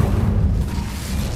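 A fire spell, Incendio, cast in the Hogwarts Legacy video game, giving a loud, sustained, rumbling fiery burst with deep low-end boom that holds steady across the moment, with no talk.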